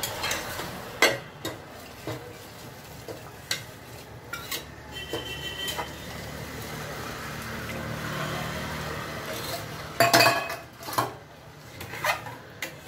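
Metal clinks and clatters, then hot water pours steadily into a pressure cooker with a soft hissing sizzle, followed by more clanking.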